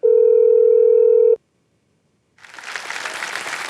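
A steady telephone dialing tone holds loud and alone for over a second, then cuts off, followed by a pause and then a burst of studio applause on a Hindi TV quiz show.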